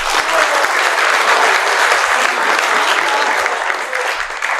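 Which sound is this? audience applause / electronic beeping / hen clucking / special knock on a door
audience applause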